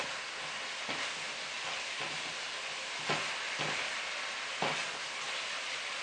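Pieces of pork cooking in a pan for caramelized pork, giving a steady broad sizzle with a few sharp clicks of a utensil against the pan, close and moderately loud, with no talking.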